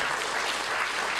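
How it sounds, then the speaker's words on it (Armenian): Brief burst of dense applause from a gathered crowd at an award ceremony, steady and close for about a second. "մի հատ էլ ծափահարենք"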